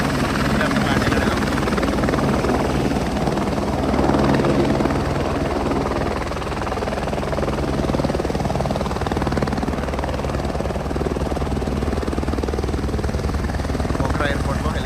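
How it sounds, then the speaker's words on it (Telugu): A helicopter lands at Pokhara airport in Nepal, its rotor and engine roaring loud and steady throughout with constant low thumping and broad turbine noise, close by and continuous. "పోఖరా ఎయిర్పోర్ట్లో హెలికాప్టర్ ఒకటి ల్యాండ్ అయింది."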